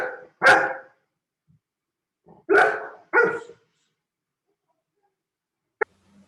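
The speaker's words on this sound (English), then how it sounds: "Coco, stop barking." A dog barks indoors in sharp single bursts, three loud barks spaced apart with silence between, then a brief faint click near the end.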